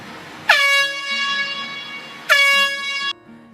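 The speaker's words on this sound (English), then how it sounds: "we have an air horn, like what you'd hear at a football game or at a hockey game" Two loud, blaring blasts from an air horn serving as a shop fire alarm, the first about two seconds long and the second slightly shorter, near and alone.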